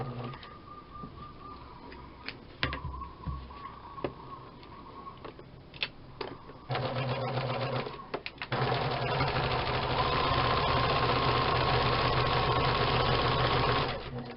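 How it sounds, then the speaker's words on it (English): Sewing machine back stitching a seam on a small fabric gift pouch, starting with short intermittent bursts and clicks, then running steadily with a loud continuous whirring hum before stopping; bird cooing faintly in the background. "And I am back stitching it."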